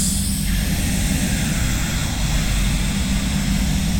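A spray gun pumps paint onto a Nissan Patrol inside a heated spray booth, giving a continuous, loud airy hiss with a low rumble underneath and no pauses.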